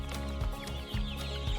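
Chicks about a month old clucking and peeping inside a poultry pen, a steady busy chatter of many small birds close by with a few louder bursts.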